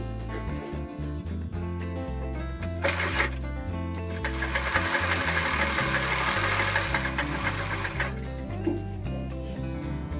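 Sewing machine running steadily while stitching fabric for a hair rubber band, a close mechanical whir with fast rhythmic needle pulses, a brief stop near the start before sewing resumes and continues.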